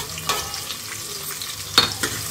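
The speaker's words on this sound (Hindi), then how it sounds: "तो प्याज ब्राउन कर लेती हूँ मैं" Onions fry in a pan, a soft continuous sizzle broken by a couple of scraping stirs, close and fairly quiet with no talk.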